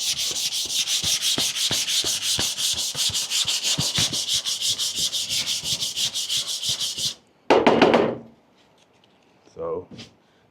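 Bondo body filler on a car body is sanded smooth by hand, giving rapid, rhythmic scratchy strokes close up for about seven seconds, then a short pause and two brief rubbing bursts.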